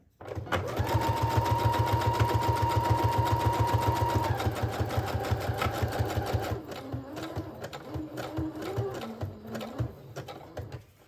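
Home sewing machine running fast and steady, stitching around the edges of small Dollar Tree fabric tags for a junk journal, a loud continuous whir that breaks into short stop-start bursts near the end.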